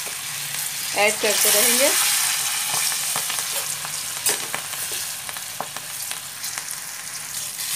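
Green chilies frying in hot oil in an Indian home kitchen, a steady loud sizzle running throughout with occasional clinks and stirring knocks, while someone speaks briefly over it.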